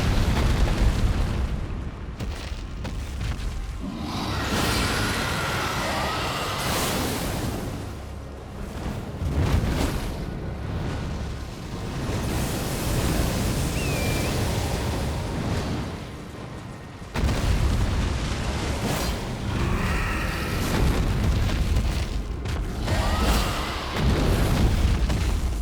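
Booming explosions from a boss dive-bomb attack in Elden Ring: Shadow of the Erdtree, dense, loud blasts rumbling continuously with a few sharper bursts and a brief dip partway through.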